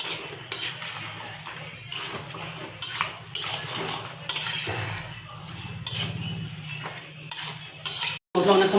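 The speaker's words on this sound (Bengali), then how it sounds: "নাড়িয়ে নেবো" Spoon scraping and clinking against a pan while mutton curry is stirred, a steady low hum of cooking underneath; repeated metallic strokes come roughly every second, close and fairly loud, with no talking.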